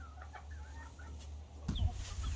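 Chickens on a farm eating treats: soft, close clucks and murmurs repeated several times, with a louder rustle and thump near the end, no talk.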